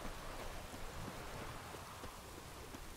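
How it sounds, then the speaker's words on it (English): Rain falling in The Witcher III, a dense, even hiss of rainfall with soft scattered drops, steady and moderately quiet throughout with no voices over it. "Nice and rainy out."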